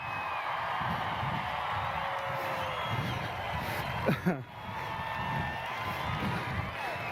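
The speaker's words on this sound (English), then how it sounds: "if you can scare them from where they stand with your clapping and cheering" A crowd at a horse demonstration cheers, whoops and shouts in a noisy arena, voices rising in a loud burst midway before settling back into a lively murmur.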